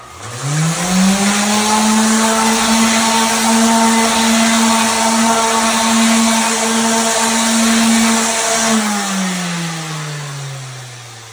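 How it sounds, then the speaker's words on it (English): Power sander fitted with 60 grit sandpaper running on a DIY concrete photo backdrop, spinning up into a steady loud motor whine that holds for several seconds, then winds down and fades. "I use 60 grit sandpaper on my sander because I want a quick swipe"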